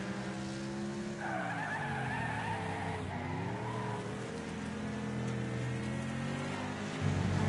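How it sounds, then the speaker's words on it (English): Race car tires spin and skid in the demolition racing video game Wreckfest, a loud continuous squeal with rising and falling whine over engine roar, running unbroken throughout. "my car doesn't even fight for traction anymore. It just gives up. Its wheels just spin"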